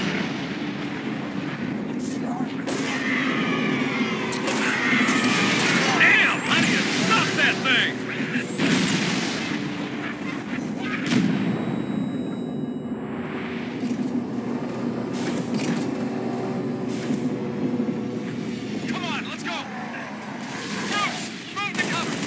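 Artillery barrage from a final protective fire mission in Halo Reach, heavy continuous rumbling blasts and crackling gunfire layered throughout, loud and dense, with radio-style voices talking over the din.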